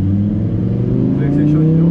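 A Lamborghini Huracan Evo in Corsa mode pulls away on a race circuit, its engine note droning steadily and climbing in pitch, loud and close, with a voice talking over it.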